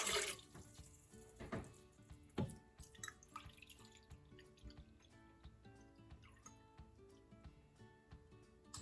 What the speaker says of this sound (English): Okay, now we're going to add our water to our little pot.